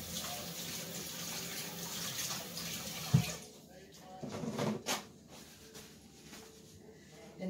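A kitchen tap runs steadily while hands are rinsed during meatloaf preparation. After about three seconds the water shuts off, followed by a few light knocks and handling sounds in a quiet room.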